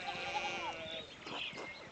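Sheep bleating in the video game Pentiment, a few wavering animal cries early on, fairly close, with faint game ambience and some clatter afterward.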